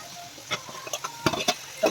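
Tomato tossed into onions frying in oil over a high flame for a home-style mutton biryani, with close sizzling and several sharp stirring scrapes and clatters in short bursts.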